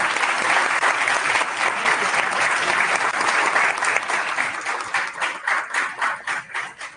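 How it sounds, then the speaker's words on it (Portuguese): Audience at a Portuguese-language lecture on multiple intelligences in math teaching bursts into loud, dense applause that holds steady, then thins into slower, individual claps as it fades out. "bater palmas para"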